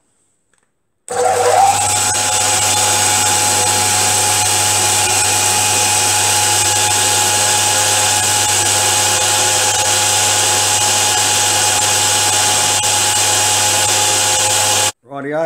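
Loud, steady whine of a drill fitted with a Jacobs chuck running continuously in a workshop for over ten seconds, starting abruptly and cutting off at the end.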